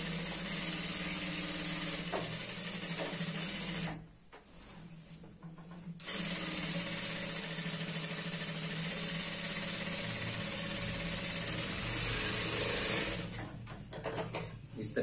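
A sewing machine runs steadily while stitching a semi-Patiala salwar, humming loud and close for long stretches with one brief pause, and someone talks quietly over it.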